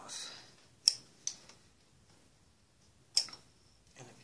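Scissors snip punch needle yarn in several sharp, close clicks spaced irregularly across a few seconds, with quiet pauses between them.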